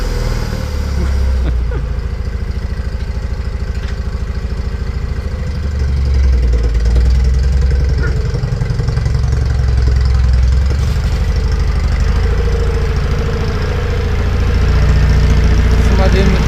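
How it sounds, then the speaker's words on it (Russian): A homemade tractor's engine idles nearby in a garage, a steady low rumbling chug with a slight knocking pulse throughout, while people talk over it. "Самодельный трактор такой."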